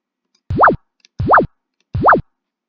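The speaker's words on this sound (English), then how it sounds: "it's going to play a sound effect. Zoom." Three identical zoom sound effects for an enemy bullet in a Scratch space shooter game, each a quick rising-then-falling swoop about a quarter second long, evenly spaced and loud, with no voices.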